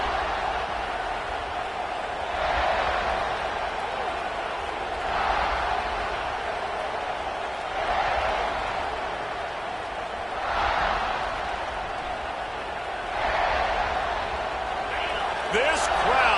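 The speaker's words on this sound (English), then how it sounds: "This crowd, full throat, splitting the eardrums and letting them know it's going to be a long day." Stadium crowd roaring at full volume in an NCAA 26 college football game, Arkansas against South Carolina, a dense continuous roar that swells in regular waves every few seconds under steady commentary.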